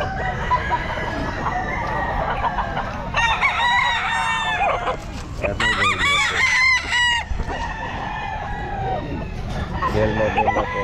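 A stag gamefowl rooster crows repeatedly at a pet market, several loud harmonic cock-a-doodle-doo calls in bursts, with other fowl clucking and market background noise around them.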